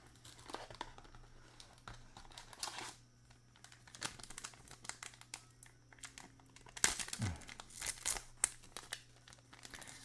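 Foil wrappers of Grand Archive Fractured Crown trading card packs crinkled and torn open up close, with repeated crackling bursts and scrunches, sharpest near the middle, and no talking.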